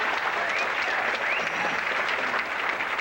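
A bowling crowd at the 1987 PBA Kodak Invitational applauds, a steady wash of many hands clapping at moderate volume throughout, with a few faint cheers or voices mixed into the noise.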